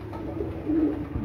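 A pigeon on a rooftop gives a short, low cooing call close by, with a soft murmur of background noise.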